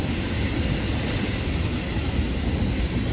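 A heavy CSX freight train rumbles past on an elevated track in Dayton, Ohio, with a constant roar of rolling wheels and a faint high squeal, loud and unbroken.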